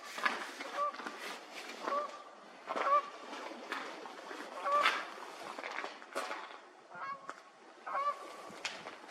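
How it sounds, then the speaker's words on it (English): A goose honks repeatedly across a lake at Astotin Lake in Elk Island National Park in early spring, the calls sounding distant and scattered over soft outdoor ambience, with faint voices in the background. "As I looked across the lake, I was sure I heard a goose."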